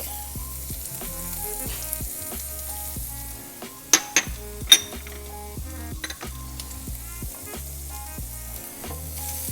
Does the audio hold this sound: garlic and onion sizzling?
yes